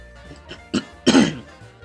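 A few throat-clearing coughs, the last one loudest and harshest, close to the mic with no talking around them.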